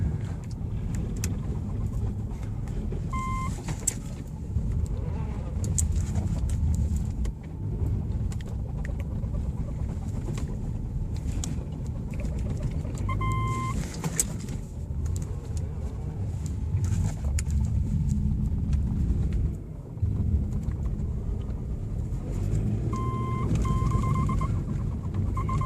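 A 2009 Subaru Outback with a manual transmission breaks tracks through deep snow, its steady engine rumble loud and continuous, with brief scraping and chime-like tones over the drone.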